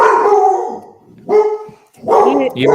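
A dog barks and howls in repeated bursts, loud and close, while a person talks over it in an indoor setting.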